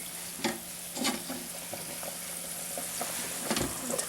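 Pretzel-shaped dough frying until brown makes a steady sizzle, broken by several short scraping and stirring knocks in the pan, heard up close with nobody speaking.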